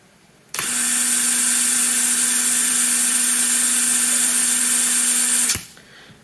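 A DeWalt DCF922 cordless impact wrench spins freely at its lowest speed setting, a steady high motor whine that starts abruptly and runs about five seconds before cutting off, loud and close.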